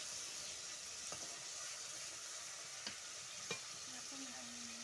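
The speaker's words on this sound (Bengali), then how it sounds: "এবার মাছগুলোকে মশলার সাথে ভালো করে নাড়াচাড়া করে নেব" Fish stirred with spices in a pan for a fish curry, giving a steady low sizzle with a few faint scrapes of the spoon against the pan.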